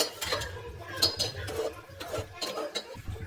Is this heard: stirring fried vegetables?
yes